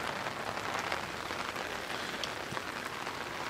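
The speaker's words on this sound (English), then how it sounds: "totally forgot it was raining" Rain falling outdoors, a dense, even hiss of drops on surfaces that holds steady throughout, with no voices.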